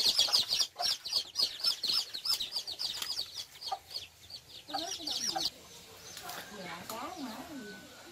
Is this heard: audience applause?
no